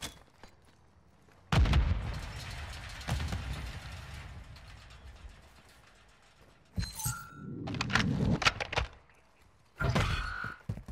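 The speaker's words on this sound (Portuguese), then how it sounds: "Granada lançada." Grenade blasts in the Warzone DMZ video game, a heavy boom followed by a rumbling decay and a second sharp blast, then clattering mechanical noises and bursts near the end.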